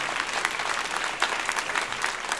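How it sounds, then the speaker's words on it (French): An audience at a stand-up comedy show applauds, a dense, fairly loud burst of many hands clapping in quick, uneven rhythm that continues without pause for a couple of seconds. "J'autorise l'applaudissement."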